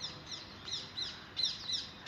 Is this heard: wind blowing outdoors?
no